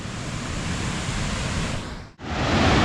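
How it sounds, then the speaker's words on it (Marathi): Water spilling over a small weir dam on a river beside a road near Indapur and Pali, a steady, loud broadband rush that drops out abruptly for an instant before returning, with no voices. "हा जो छोटासा काय बंधार आहे तर याच्याकडे जाऊया मस्तपैकी पाणी पडतं इकडे"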